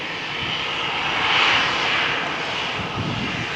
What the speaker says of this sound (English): Another EasyJet flight from Malaga to London Gatwick.